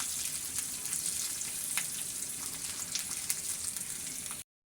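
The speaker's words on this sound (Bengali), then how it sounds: "রসুন, রসুনটাকেও একটু ভেজে লাল করে নিব।" Garlic fries in hot oil until browned for a dried-fish curry with snake gourd seeds, giving a steady, close, dense sizzle with faint crackles and no voices throughout.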